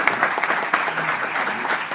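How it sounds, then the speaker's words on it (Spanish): An audience applauds after a Spanish political speech, a dense, steady wash of many hands clapping close by, with a faint voice briefly audible beneath the sustained ovation. "un fuerte aplauso por sus palabras"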